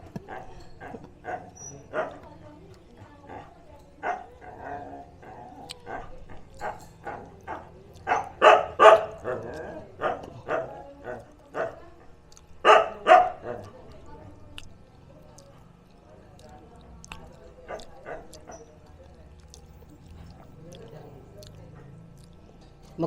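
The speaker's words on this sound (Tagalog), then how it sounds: "kaya dinig na dinig yung kahol ng aso." A neighbour's dog barks in short, separate bursts from fairly close by outdoors, with the louder barks bunched in the middle, over a light background of wind and faint household noise.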